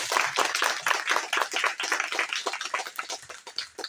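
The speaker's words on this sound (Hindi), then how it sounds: "एक बार जोरदार ताली हो जाए" A church crowd claps hard in a dense, continuous patter of many hands. The clapping stays loud and unbroken throughout.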